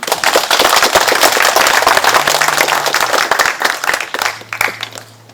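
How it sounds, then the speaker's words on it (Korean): An audience in a hall at a regional forum commemorating a democracy movement breaks into loud, dense applause to welcome a provincial governor to the podium, the clapping steady for about four seconds and then thinning out. "박수로 환영해 주십시오."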